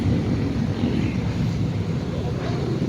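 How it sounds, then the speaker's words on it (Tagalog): Steady, heavy wind roaring and buffeting throughout, loud and continuous with a low rumble. "Malakas pa naman ang hangin."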